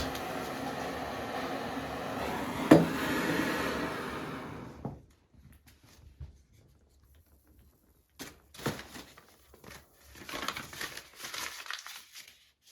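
Ordinary paper is crumpled by hand to light a cold stove in an old house, giving several seconds of continuous crinkling. Quieter scattered rustles and handling noises follow.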